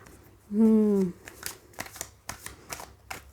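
Tarot cards are shuffled in quick, close papery riffles and flicks after a brief spoken word from a woman.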